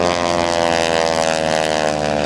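A North American T-6 Texan propeller trainer roars past at an air show, its loud, steady engine drone and propeller buzz filling the short stretch without pause.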